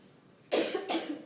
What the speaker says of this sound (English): I haven't coughed like this in days and weeks